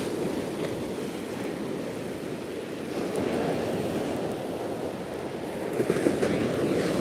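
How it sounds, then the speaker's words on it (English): Waves break steadily on a beach at night while strong wind buffets the microphone, a loud continuous roar of surf and gusts with occasional crashes. "You can probably hear it, the waves have picked up a lot."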